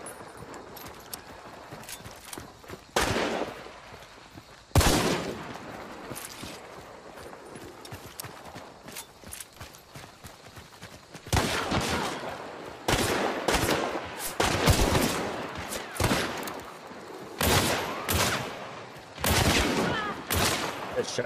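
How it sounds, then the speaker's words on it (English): Sharp, loud gunshots from Hunt: Showdown crack out one at a time with irregular gaps, some close together in quick pairs, over a low ambient background. "Good shot, nice. Good shot."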